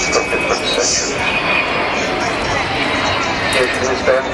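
Avro Vulcan bomber XH558 flying past with its landing gear down, a loud, continuous engine roar mixed with crowd babble and voices nearby.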